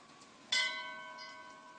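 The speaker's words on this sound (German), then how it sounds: "Aha, Glocken läuten." A church bell chimes once in the video game BioShock Infinite, a sudden bright strike with a long ringing, slowly fading tone over a quiet background.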